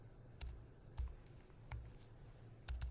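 A few scattered key clicks on a computer keyboard while working in Adobe After Effects, with four short taps spaced across a quiet room.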